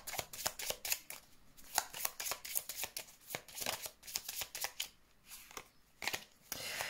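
Tarot cards are shuffled by hand for a reading, giving a quick run of soft, rapid riffling flicks, close and fairly quiet, with no talk.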